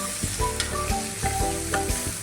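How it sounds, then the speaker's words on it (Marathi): Crushed peanut is tossed into walpapdi bhaji cooking in a pan, with steady sizzling and frying crackle and repeated clinks and scrapes of a spoon stirring throughout. "फक्त आता शेंगदाण्याचं कूट टाकते मी वरून"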